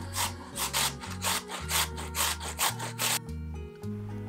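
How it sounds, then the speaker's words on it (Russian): Two large raw potatoes are rubbed against a coarse grater in close, rhythmic rasping strokes, about a dozen quick scrapes in a steady back-and-forth pattern with no talking. "2 крупных картошки натираю тоже на крупной терке, как и кабачки."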